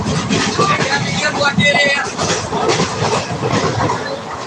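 A train rumbles past up close, loud and steady, with rattling clatter throughout.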